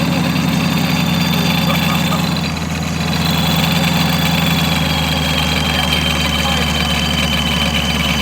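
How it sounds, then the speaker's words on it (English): Supercharged Chevrolet Camaro SS V8 with a ProCharger settles into a loud, steady idle, a continuous low rumble with a rough mechanical chatter layered on top throughout. "Literally, the next step did say to start the engine, check for leaks."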